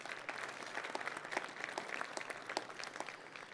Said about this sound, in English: So a round of applause, please, for Farm Credit.